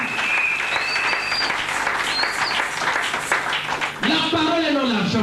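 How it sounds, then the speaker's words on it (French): An audience at a prosperity seminar in church applauds and cheers loudly with whistles in a dense, continuous roar. A voice rises over it near the end. "Acclamez très fort."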